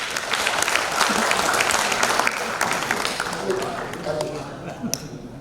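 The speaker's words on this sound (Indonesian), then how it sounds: "Tepuk tangan buat saya" A talk-show audience claps in a hall, with busy, uneven applause that stays fairly loud before gradually thinning out, and a few stray louder claps near the end.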